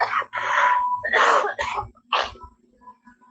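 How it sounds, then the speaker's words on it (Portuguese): Several harsh, explosive coughs in quick succession, close and loud, followed by a quieter tail with faint beeps. "já começou a tosse"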